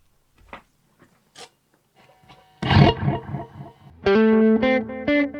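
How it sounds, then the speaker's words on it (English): Electric guitar played through a cheap $19 pedal with reverb: scattered soft picked notes, then a louder strummed passage and ringing sustained chords with a washy tail, alone without talk. "So let's test this with some reverb."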